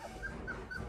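Phantom Miniature Aussiedoodle puppies whimper in a short burst of faint, high little whines repeating quickly over a soft background.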